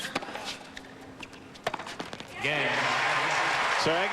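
A tennis crowd at Key Biscayne in Miami, 2002, breaks into broad, sustained applause after Agassi breaks Johansson's serve, with a commentator talking over the swell.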